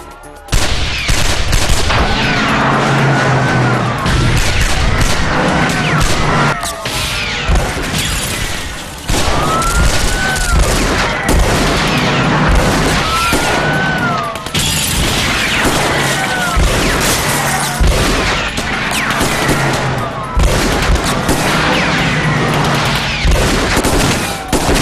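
A film shootout from an Indonesian police action movie, with dense, loud bursts of automatic gunfire, booms and crashing, shattering impacts that go on almost continuously and are layered with other chaotic action sounds.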